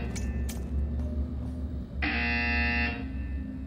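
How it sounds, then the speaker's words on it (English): An alarm sounds in the video game Portal, a steady electronic buzzing tone that cuts in abruptly and holds for about a second over low background hum, loud and close. "And now we have a weird alarm"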